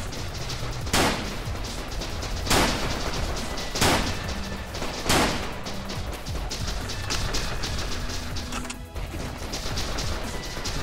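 Four loud, sharp gunshot bursts ring out at irregular intervals in a first-person shooter game, each a broadband crack with a short tail, over a dense, busy game background with no talking.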